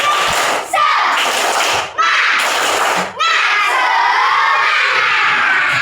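A class of children performs the 'tepuk semangat' classroom clap chant, led by their teacher. Loud, continuous clapping and chanting voices fill the room in rhythmic bursts with brief pauses.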